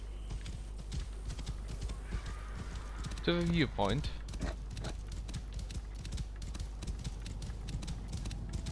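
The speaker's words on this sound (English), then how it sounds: "Let's get on the horse and let's roll to the..." Horse hooves clip-clop in Assassin's Creed Origins, a steady rhythmic trot running throughout, with a brief loud neigh partway through and someone talking briefly over it.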